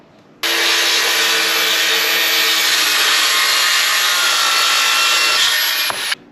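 Wood being sawn with a power saw inside a living room of a remote off-grid Alaska cabin, one loud continuous cut lasting about six seconds and then stopping abruptly.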